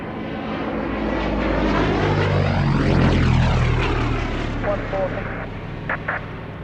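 A Gloster Gladiator biplane with a propeller engine flies overhead, its drone swelling to a loud peak and Doppler-shifting as it passes, then fading away.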